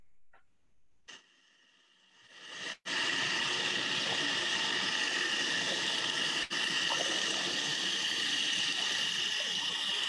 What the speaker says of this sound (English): just to give you an idea of how loud that water is, this is what it sounds like underwater